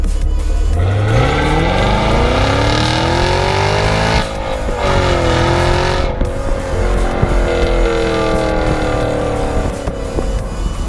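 A front-engined car with a 6.2 litre V8 making 455 horsepower accelerates hard through the gears with a loud, close engine note, its pitch rising steadily, then dropping at each shift before climbing again.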